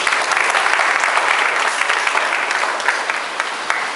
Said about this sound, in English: Give a round of applause to him.